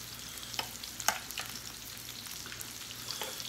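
Korean BBQ meat and onions sizzle on a grill at a hot-pot cookout, a steady moderate frying hiss with occasional sharp pops and clicks of stirring, and no talk.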